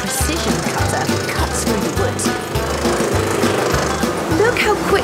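A sharp saw cuts freehand through wood to shape jigsaw puzzle pieces, a steady rapid buzzing with rhythmic low pulses from the blade stroke, close and loud, with a voice talking over it.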